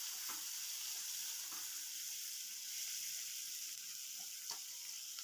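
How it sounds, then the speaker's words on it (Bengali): Chopped onion frying in oil with bay leaf, whole cumin and sugar, giving a steady faint sizzle with occasional light stirring taps, no voices. "এবার এই পেঁয়াজ কুচিটা দিয়ে ভালোভাবে ভেজে নেব।"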